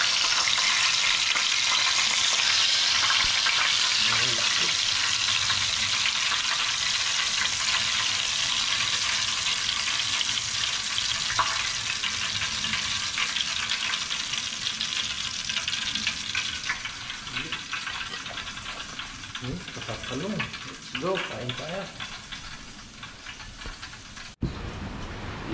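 Tilapia fries in a pan with a steady, loud sizzle and crackle of hot oil throughout; faint voices occasionally murmur beneath it before it abruptly stops.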